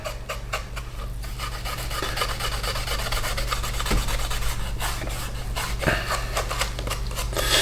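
A product being rubbed by hand into a leather knife sheath: a steady, close, rasping friction that continues without a break, with a few faint knocks and no talking.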